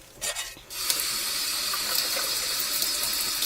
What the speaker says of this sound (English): Rub a stainless steel spoon under water, and it gets rid of the onion smell in your hands.